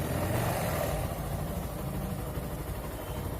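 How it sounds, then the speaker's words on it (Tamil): A Bajaj Pulsar motorcycle engine with a knocking fault runs close by, a steady low mechanical drone with a faint rhythmic rattle and no clear revving, alone without talk. "ரைஸ் பண்ணும்போது கடன்னு ஒரு சவுண்டு வருது பாருங்கள்."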